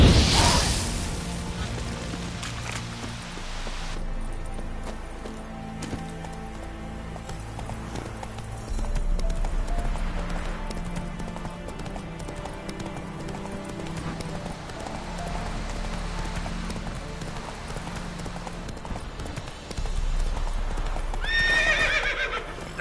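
Hooves of Roach, the horse from The Witcher 3 video game, beat in a steady galloping clip-clop under game music and ambience, with occasional whinnies and a bright swish near the end.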